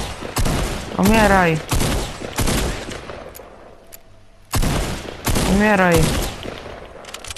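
Automatic gunfire in a video game crackles in two loud sustained bursts separated by a pause, while someone shouts over the shooting.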